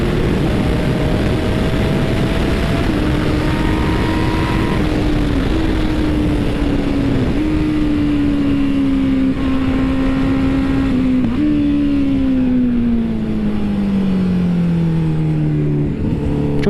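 A Honda CB1000 naked motorcycle engine revs hard around a race track, a loud sustained drone whose pitch climbs and falls as it accelerates and eases off, with no talk over it.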